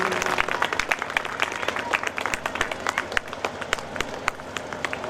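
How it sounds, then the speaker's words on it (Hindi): Audience applause at a school annual function, dense scattered clapping from a crowd running steadily throughout, fairly loud and close, with no clear voice above it. "आपकी तालियां बजती रहनी चाहिए।"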